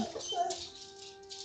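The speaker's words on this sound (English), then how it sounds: "Whose dog is sad?" A dog whimpers and whines in a thin, high, wavering tone, heard faintly behind close talking indoors.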